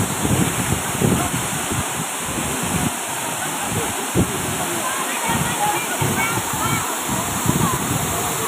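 Efrata waterfall on Samosir, a steady broadband roar of falling water filling the scene, continuous and fairly loud with some sloshing texture throughout.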